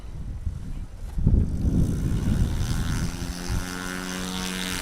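A STOL competition aircraft on its takeoff roll at the Sodbusters event in Hartford, Wisconsin, with a loud continuous propeller-engine drone that builds and holds steady as the plane accelerates, heard from the field.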